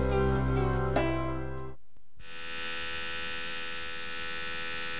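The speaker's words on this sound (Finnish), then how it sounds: "Ääni, jonka kuulet, on uusi paristokäyttöinen Colgate Active Brush" A battery-powered Colgate Active Brush electric toothbrush hums with a steady, even buzz that holds for about three seconds after a short gap following other sound.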